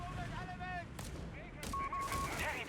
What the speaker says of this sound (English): Mortar pits firing.